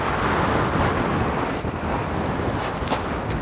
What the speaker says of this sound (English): The only thing is a crazy wind here.